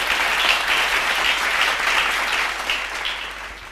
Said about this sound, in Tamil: கைத்தட்டு வருது.